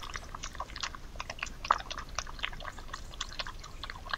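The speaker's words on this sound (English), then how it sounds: "You can hear every crunch from them badgers." Badgers crunching nuts at night, picked up by a WiFi trail camera's microphone: a steady run of sharp, close, crisp cracking and chewing clicks, repeated irregularly throughout with no voices.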